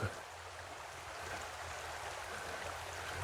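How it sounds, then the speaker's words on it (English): A babbling brook running beside a campground with horse facilities, heard as a steady, close, even rush of flowing water with no clear breaks, and no talking. "Babbling Brook, really nice, sounds really nice."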